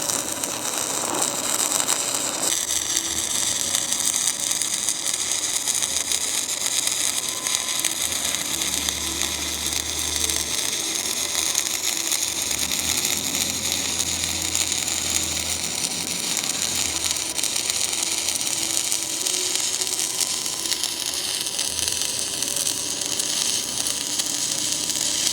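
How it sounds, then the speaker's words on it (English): Stick welding with a Blue Demon 7014 carbon steel electrode, 3/32 size, at 90 amps DC electrode positive on a Blue Arc 200 STI machine: a steady, close crackling sizzle that continues uninterrupted and alone. "We're going to be running the 7014 and 3/32 on Blue Demon's Blue Arc 200 STI welding machine with 90 amps and DC EP."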